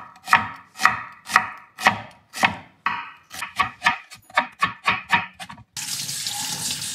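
Large onions sliced with a knife on a cutting board in a home kitchen, a steady run of crisp close chops about every half second, speeding up toward the end, then a burst of running tap water takes over.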